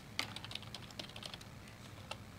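Keyboard typing in a computer typing minigame: a quick, irregular run of light key clicks, fairly quiet and close, with no talk over it.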